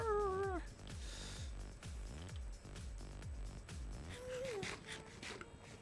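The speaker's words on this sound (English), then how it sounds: "you're hearing a cat who is out in the hallway shouting at something." Out in a hallway, a cat gives a faint, drawn-out meow and later a shorter one, both thin and distant against a low, rhythmic background murmur.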